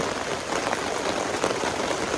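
Steady rain falls during a walk to college, a dense even patter on an umbrella that hisses on without a break.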